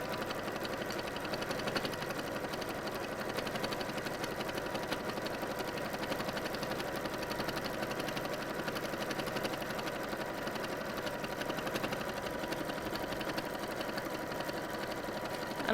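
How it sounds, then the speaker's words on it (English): A sewing machine runs continuously, stitching along a bag handle, a close, steady rapid whirr and needle clatter with no pauses and no voices. "allow that to just feed back through the machine to sew on the second side as well"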